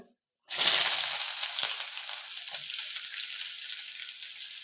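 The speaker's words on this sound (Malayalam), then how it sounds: "അപ്പോൾ എണ്ണ ഒഴിച്ചു, കടുക് പൊട്ടി." After a brief silence, a loud, steady sizzle of hot oil bursts in as mustard seeds pop, with fine crackling and popping continuing close up.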